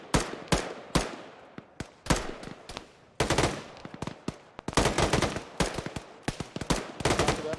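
Machine gun fire in the military shooter ArmA 3 at a bunker about 600 meters away, heard as a long run of sharp, loud shots in irregular bursts with brief pauses between volleys.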